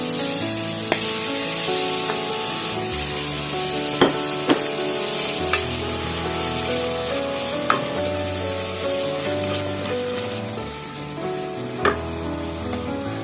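Minced pork sizzles steadily as it is stir-fried in a rice cooker for a dry Thai holy basil dish, a loud, continuous hiss broken by a few sharp clicks of a utensil against the pot, with no talking.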